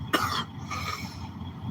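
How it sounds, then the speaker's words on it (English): A single harsh cough close to the mic, followed by a softer throaty exhale and some throat clearing. "I can feel a cough coming on."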